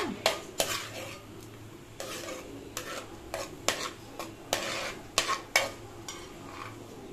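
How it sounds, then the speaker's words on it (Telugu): Cashews fried in ghee in a pan, heard as a near, steady soft sizzle broken by repeated sharp scrapes and clinks of a metal spoon stirring against the pan, with no talking. "నెయ్యి పెట్టేసుకొని అండి కొంచెం జీడిపప్పు వేయించేసుకుందాము."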